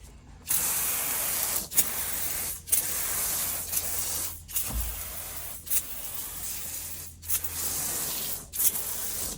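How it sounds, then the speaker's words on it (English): A pump sprayer hisses out diluted Kraken cleaner onto old leather inside a 1966 Chevy Impala barn find, in about seven close, loud bursts of a second or so, separated by short pauses. "we're again gonna start off with our Kraken right in our pump sprayer"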